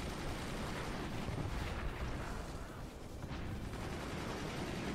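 Weapon fire in the strategy game Forts, a dense, continuous barrage of gunfire and heavy blasts blending into a loud roar, steady with a small dip midway.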